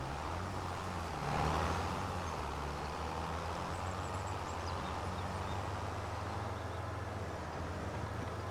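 A car passes in the Farming Simulator 25 video game, a steady low engine and road hum that swells briefly near the start before settling into a constant drone.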